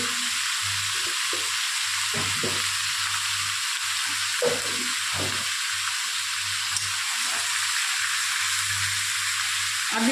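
Salt, turmeric and ginger-garlic-onion paste fry in hot oil with a steady, loud hiss, while a spoon scrapes and stirs through the pan in irregular bursts.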